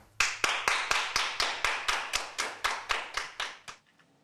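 A small group of people claps as a resolution passes, with about fifteen sharp, evenly spaced, fairly loud claps that then stop, with no talking.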